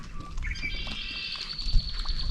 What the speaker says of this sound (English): Lots of pretty birds.